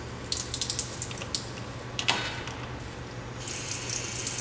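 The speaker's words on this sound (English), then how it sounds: "The first thing we do when testing our pressure vacuum breaker is to flush our test cocks" Water spurts and splashes in short bursts from the test cocks of an ARI VB 501 pressure vacuum breaker, with intermittent hissing flow, louder sprays near the middle and end, over a steady low hum.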